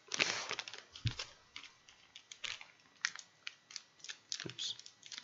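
A cigar pack wrapper on a Quorum Shade Churchill cigar is torn open in a series of close, crinkly rips and plastic crackles, with a short burst of quick tearing at the start.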